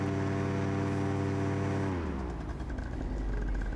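Vittorazi Moster 185 Classic paramotor engine revving loud and close, a steady harmonic drone that drops and shifts partway through as the propeller speed changes, running toward its 8,300 RPM maximum.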